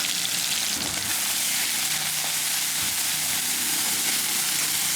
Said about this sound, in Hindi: देखिए ये थोड़ा सा फ्राई हो जाए।